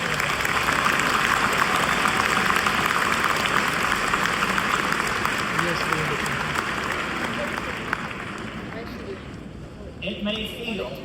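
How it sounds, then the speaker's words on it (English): Sustained applause from a large crowd of new University of Illinois Chicago business graduates at their graduation ceremony, a dense steady roar that slowly thins and fades toward the end. "Go ahead, give yourselves a round of applause."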